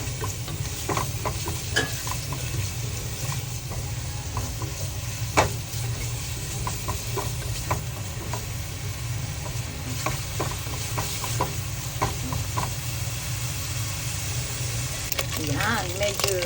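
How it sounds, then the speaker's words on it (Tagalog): Bacon sautéing in a pan for shrimp chowder, a steady close sizzle with scattered scraping and stirring clicks throughout, no talking over it. "igisa natin unahin natin ang bacon"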